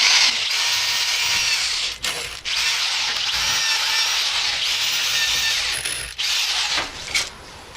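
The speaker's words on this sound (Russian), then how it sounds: "сверлю блок уменьшенным диаметром" A power drill with a reduced-diameter 6 mm bit whines loudly in long bursts as it bores into an aerated concrete block for a plastic window installation, pausing briefly between runs.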